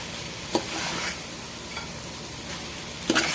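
Spaghetti being stir-fried with cooked chicken in a pan makes a steady close sizzle, with a few sharp scraping clacks from the utensil against the pan.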